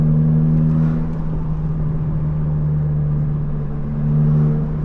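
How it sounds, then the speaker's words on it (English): A car cruises at night on the way to the gym, a steady low engine drone and road rumble from inside the cabin, with a slight swell in the final second and no talking. "I'm driving to the gym"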